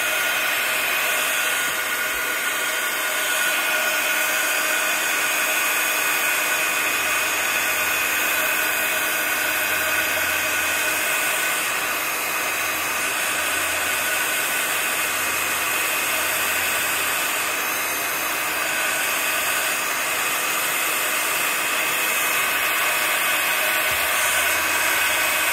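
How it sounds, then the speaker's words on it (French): A heat gun blows steadily on a layer of gesso on a journal page. Its hiss is loud and unbroken, close by, and holds for the whole stretch with no talk. "Un pistolet chauffant, ça va sécher plus vite ma couche de gesso."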